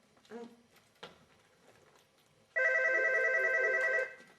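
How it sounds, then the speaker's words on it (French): Telephone bell ringing indoors in an office, one loud sustained ring of about a second and a half following brief speech. "Le téléphone n'a pas sonné?"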